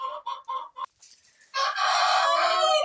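Wheaten Araucana chickens clucking in a breeding pen, a few short rhythmic clucks followed by a long, loud rooster crow, close by with no talk.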